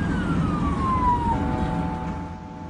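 Ambulance siren on a highway, a loud wailing tone sweeping downward and then holding steady over road and traffic rumble, close by.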